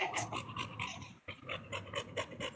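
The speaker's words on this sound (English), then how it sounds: "I hear that dog." A dog pants in quick, steady rhythmic breaths close by, with a faint growl-like rasp under the panting and no talking.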